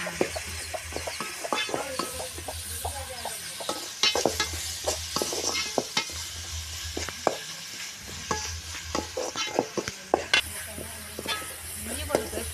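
Busy sizzling and crackling of crushed ginger and garlic frying in a hot pan for squid curry, with frequent stirring clatter, a low hum running beneath throughout.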